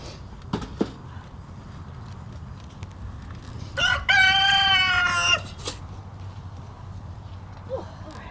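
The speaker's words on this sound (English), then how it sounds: "That's a rooster." A rooster crows once, loud and fairly close, a harmonic call lasting about a second and a half, with scattered clucks and faint hoof-like clops around it.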